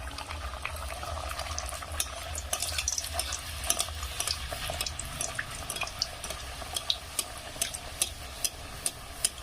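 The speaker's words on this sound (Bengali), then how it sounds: "কড়ার মধ্যে কিন্তু তেল দিয়ে দিয়েছি। তেলটা কিন্তু এখানে গরম হয়ে গেছে। এবার এখানে আমি লুচিগুলো দিয়ে দেবো।" Luchi (puri) frying in hot oil in a kadai, steady crackling sizzle with scattered sharp pops and a low bubbling rumble, close and continuous.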